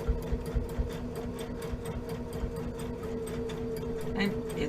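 Sewing machine running steadily while stitching a very thin seam allowance along the bottom of a tote bag, a continuous close mechanical whir with a rapid needle rhythm throughout.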